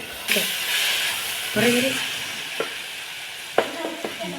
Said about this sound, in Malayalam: ഇത് ചിക്കനുള്ള ഉള്ളിയാണ് അമ്മമ്മ വഴറ്റുന്നത്